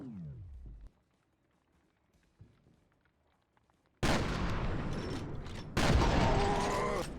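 Heavy gunfire in F.E.A.R. erupts in two loud, dense bursts after a quiet stretch with a few faint clicks and thuds, the second burst starting just after the first cuts off.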